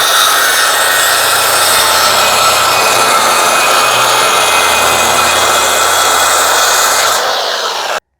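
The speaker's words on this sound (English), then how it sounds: "clamp it down, then bring my saw in" A power saw rips in one continuous cut through a clamped OSB board, loud, close and steady for about seven seconds before cutting off abruptly.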